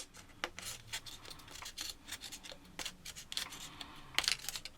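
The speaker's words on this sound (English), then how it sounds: "take a good pair of scissors, and cut off the top" Soft, quiet snipping and rubbing of scissors cutting through material, irregular crisp strokes close by with no voices.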